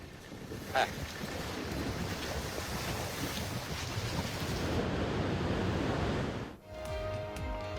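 Storm winds and high waves batter the Italian coast, a steady roar of wind buffeting the microphone over crashing surf, loud and continuous with no voices.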